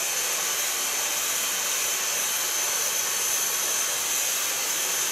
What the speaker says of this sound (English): Going to blow dry the hair with a medium